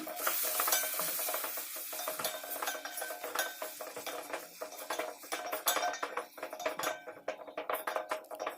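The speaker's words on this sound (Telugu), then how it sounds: "పసుపు, ఉప్పు యాడ్ చేసి బాగా ఫ్రై చేసుకోవాలి." Chicken stir-fried in a pan with turmeric and salt, a spatula scraping and clinking in a steady busy rhythm over a constant sizzle, close and fairly loud throughout with no talking.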